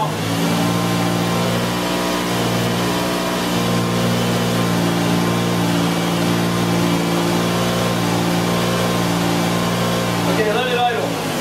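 A 2000 Lexus RX 300 with a no-start fault runs steadily at raised RPM after carb cleaner, giving a continuous close, droning engine hum with a brief clatter near the end.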